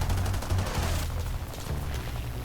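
Browning M2 12.7mm machine guns on an A-36 fire in War Thunder as rapid, dense bursts of gunfire over low engine rumble, loud and continuous.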